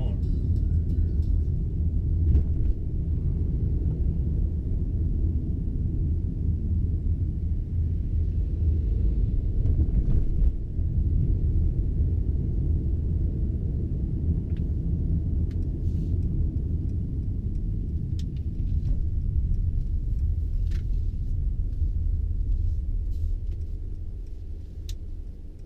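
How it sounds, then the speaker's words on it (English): Steady low engine rumble and road noise from inside a moving 2017 Mercedes-Benz E 200, continuous and fairly loud throughout, easing off slightly at the very end. "I'm just gonna do a longer drive so you can somewhat hear the car more"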